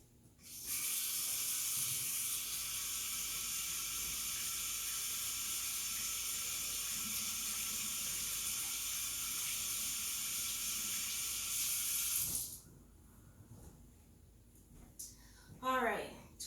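Tap water runs hard into a sink for about twelve seconds while hands are washed beneath it, a steady loud hiss that cuts off abruptly, followed by faint handling noises.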